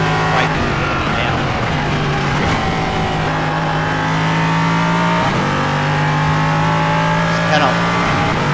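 Race car engine in the iRacing sim game, a loud continuous drone with rising and falling revs as the car brakes into the last corner and accelerates onto the back straight, with occasional shifts and faint tire squeal.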